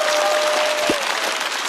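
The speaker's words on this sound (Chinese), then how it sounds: "再次掌声送给小帕" Audience applause for stand-up comedian Xiaopa on a talk show stage, a broad continuous wash of clapping at steady volume with a faint sustained tone and a brief low thump partway through.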